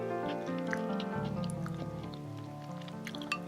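Someone eating steamed dumplings with leftover sweet potato, soft close chewing and a few wet bites over a background of steady tonal music.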